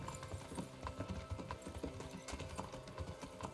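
Horse hooves clip-clop in a steady walking rhythm as a rider travels in the medieval video game Kingdom Come: Deliverance. The hoofbeats are soft and even, with faint game ambience underneath.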